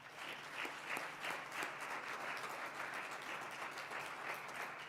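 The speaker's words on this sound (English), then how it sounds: "Let's give a round of applause for Kendall Davis." An awards ceremony crowd applauds an honoree in a dense, even wash of many hands clapping, fairly distant and sustained without a break, with no voices over it.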